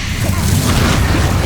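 Fiery blast from the Incendio spell in Hogwarts Legacy: a steady, loud low rumble and roar with scattered pops, continuous for its short length.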